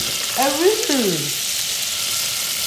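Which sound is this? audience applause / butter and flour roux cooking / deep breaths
butter and flour roux cooking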